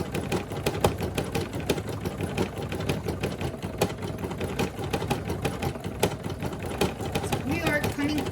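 Brother SE1900 embroidery machine stitching a design onto a baseball hat, a steady rapid mechanical clatter running throughout under a speaking voice.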